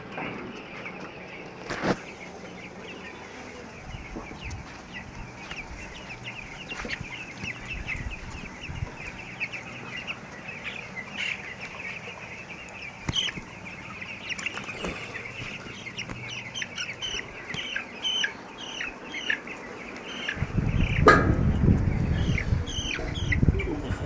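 Several 11-day-old chickens cluck and chatter nearby while being weighed, with short repeated calls over a quiet background and a brief rumbling handling noise near the end.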